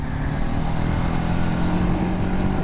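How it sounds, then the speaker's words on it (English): A 300cc motorcycle engine holds a high, steady rev, a buzzing drone with a strong tonal hum sustained for a couple of seconds, close and loud with no pause. "High revving engine, it's very happy to be revved high"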